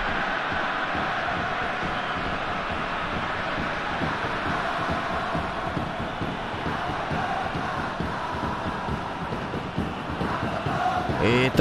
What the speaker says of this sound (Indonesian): sorakan penyokong-penyokong